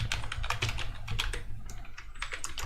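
Close, steady typing on a computer keyboard, a quick irregular patter of key clicks with no voices.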